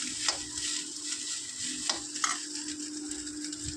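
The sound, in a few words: egg fried rice sizzling while being stirred in pan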